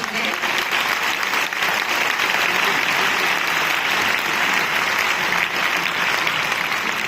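An audience at a medical talk on glutathione applauds Dr. Jimmy Goodman, a dense, loud and continuous round of clapping that holds steady for several seconds, with faint voices mixed in.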